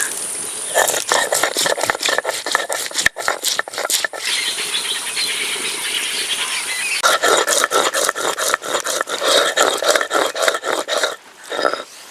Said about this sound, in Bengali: 2 টুকরো দারুচিনি, 2টো এলাচ, 2টো লবঙ্গ একসঙ্গে বেটে নেব।